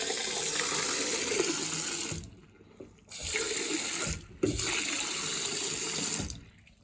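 Water running from a Grohe tap after a cartridge replacement, splashing into a sink in three bursts: turned on, shut off, turned on again, with short quiet gaps and a soft clunk of the handle between.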